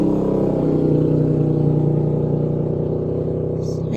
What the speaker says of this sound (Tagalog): daming mga motorsiklo na dumadaan guys. Ang ingay.